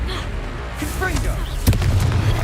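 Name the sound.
Confringo blasting spell explosion, Hogwarts Legacy video game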